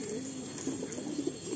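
Madrasi pigeon in a loft cooing in low, soft, repeated warbling phrases, steady and moderately close, with no talk.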